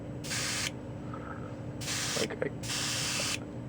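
A Mr. Hobby Procon Boy PS-290 airbrush sprays paint in three short, loud hissing bursts separated by pauses, with a low hum of room noise beneath and a brief spoken word.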